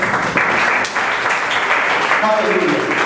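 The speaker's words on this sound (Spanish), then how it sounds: "Dale un fuerte aplauso al Señor." Broad, steady applause from a church congregation during a Pentecostal service, a dense wash of clapping sustained throughout with scattered voices and faint tonal sounds mixed in.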